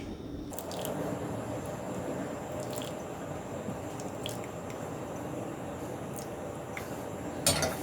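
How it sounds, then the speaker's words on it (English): Flaxseed gel mixture is poured slowly through a sieve, giving a steady wet squishing trickle with occasional drips throughout, close and moderately loud, with no talk over it. "We're going to pour our flaxseed mixture through our sieve."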